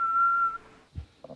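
A short whistled tune meant as the NBC network chime, one steady clear tone held for about half a second, then fading out, followed by a couple of brief soft noises.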